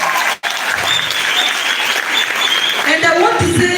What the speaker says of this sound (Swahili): Makofi kwa Michuki.